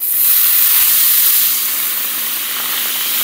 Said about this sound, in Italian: adesso mi preparo il vino bianco perché vado a sfumare il fondo di cottura